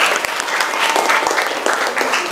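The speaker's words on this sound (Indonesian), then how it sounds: "Tepuk tangan buat teman kita." Classroom applause for a fellow student during an Islamic jurisprudence lesson on preparing the dead for burial, brisk steady clapping from a group, close and fairly loud, with faint voices mixed in.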